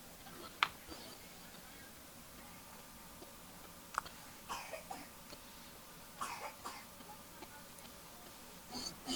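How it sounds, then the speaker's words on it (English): A woman coughs a few faint, sharp times, spaced several seconds apart, over a quiet room background. "That's a nasty cough she's got."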